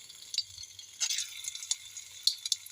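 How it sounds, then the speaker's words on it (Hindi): Cut paneer sizzles faintly in hot mustard oil in a kadhai, with soft crackles and light stirring clicks spread across a couple of seconds. "तो अब इस गर्म तेल में हम जो पनीर काट के रखे हैं वो पनीर इसमें डाल देंगे"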